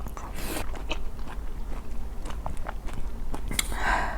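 Someone eats an orange after spicy food, taking a close, wet bite and then chewing in soft, squelchy, slightly crunchy mouth sounds that continue steadily.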